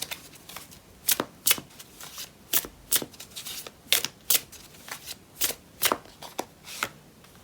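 Tarot cards shuffled by hand in a quiet room, a string of crisp riffling bursts roughly twice a second, close and fairly loud, with no talking.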